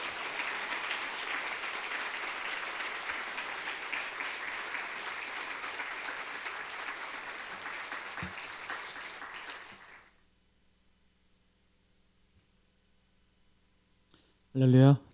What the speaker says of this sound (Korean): 우리 목사님 나오실 때 크게 할렐루야 하면서 우리 박수로 환영하겠습니다